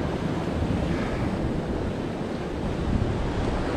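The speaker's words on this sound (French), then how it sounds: "il y a du ressac quand même" Sea surf washes back along the shore where someone is fishing for sea bream from the beach, a continuous broad roar of breaking and retreating water mixed with wind buffeting the microphone, loud and unbroken.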